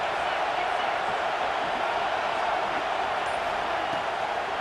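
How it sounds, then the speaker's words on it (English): Stadium crowd in a college football video game makes a dense, steady roar of noise that holds loud throughout, with no clear speech on top. "Decibels rising as the crowd gets behind this defense on 3rd down."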